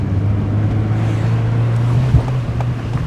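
A Honda Fit GD3 fitted with coilovers and new wheels and tires drives fast around a parking lot, giving a loud, steady low engine and road drone with one brief thump.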